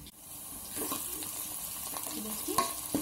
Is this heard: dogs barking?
no